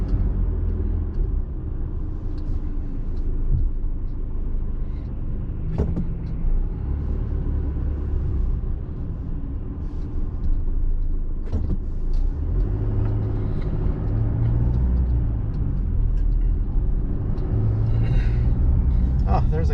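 Steady traffic at a busy intersection heard from inside a car on a drive to the Southworth ferry terminal in Washington, with a continuous low rumble of engines and passing vehicles and an occasional hiss like an air brake.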